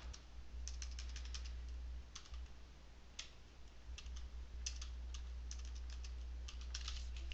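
A computer keyboard is typed on as a website address is entered, giving quick, soft clusters of key clicks separated by short pauses over a low, steady hum.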